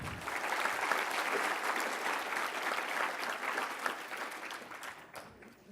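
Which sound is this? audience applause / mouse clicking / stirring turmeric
audience applause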